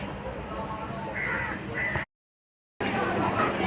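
Crows caw repeatedly at a banyan tree bearing red fruit beside a riverside ghat temple near Budge Budge, a steady noisy flock filling the air, cut by a brief gap of silence before the calls resume.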